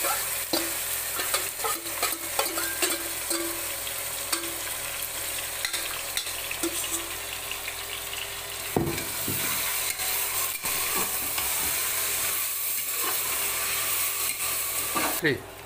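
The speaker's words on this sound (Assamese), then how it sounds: "এতিয়া মাংসখিনি দি পেলাই 10 মিনিটমান ভাজিব লাগিব" Loud, continuous sizzle of meat frying in a pan for biryani, with frequent clatter and scraping from stirring; a brief burst of louder hiss midway.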